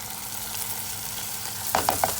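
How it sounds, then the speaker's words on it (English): Ingredients for chicken fried rice sauté in a pan, giving off a steady, even hiss, with three quick utensil clinks near the end. "We're going to saute these for 2 to 3 minutes."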